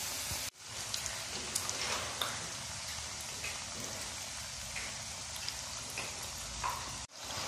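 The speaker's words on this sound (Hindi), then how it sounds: "पहले एक साइज़ वाली हम जो है वो लंबी साइज़ वाली फ्राई कर लेते हैं, उसके बाद हम दूसरी फ्राई करेंगे।" Long-cut potato chips fry in hot oil, giving a steady, close, rain-like sizzle and crackle with scattered pops and no talking.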